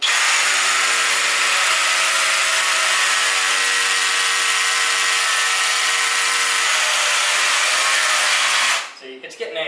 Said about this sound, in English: listen to the sound of the motor of the machine